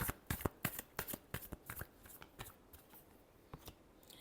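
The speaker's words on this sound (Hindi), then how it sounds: "last shuffle," Tarot cards are shuffled close up in a quick run of crisp riffling slaps that thin out into softer, sparser flicks, quiet and with no talking.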